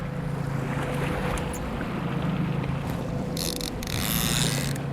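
Fishing reel clicker ratcheting on a boat on Lake Erie during fall walleye trolling, a steady ticking over engine hum and water noise, with brief sharper rattles near the end.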